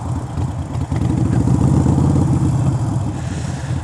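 A motorcycle engine runs at low speed with the throttle opened just slightly, a steady close mid-pitched pulsing drone with a light mechanical clatter and no talking.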